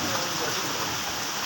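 Rain falling steadily outdoors, a dense, even hiss of drops on surfaces, close and continuous for the whole short stretch with no distinct voices.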